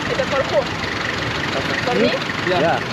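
A motorbike carrying three riders on a road in Africa, its engine running with a steady low rumble throughout while people talk and call out over it.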